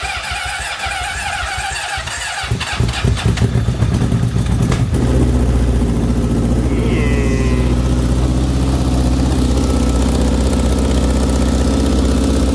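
A Honda CBR600RR motorcycle engine cranks with rapid chugging pops, catches on its first start, and settles into a loud, steady rumbling idle close by.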